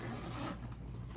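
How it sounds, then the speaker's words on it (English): A zipper on a rolling cat carrier backpack is pulled in one short, quiet scraping run. "And then if you see here, and again, 2 zippers, very handy."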